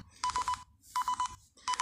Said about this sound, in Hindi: हमारा मोबाइल बजने लगेगा